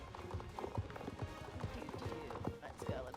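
Hooves of a ridden horse in a video game clip-clop in a quick, even rhythm at moderate distance, running beneath a faint background of speech.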